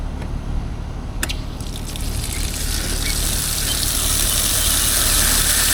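Water gushes from an outdoor water-key spigot at a commercial property, a loud continuous hissing rush that builds in strength, with a brief metallic clank early on.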